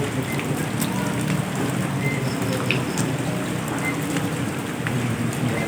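Steady rain falls continuously, a dense wash of drops on surfaces that holds at an even level throughout with no distinct voices over it.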